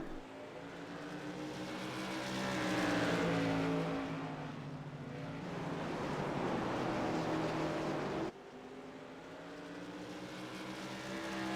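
AMA Modified race cars circle the track at New Smyrna, engine drones swelling and fading as cars pass, steady and moderately distant, with a brief cut near the end.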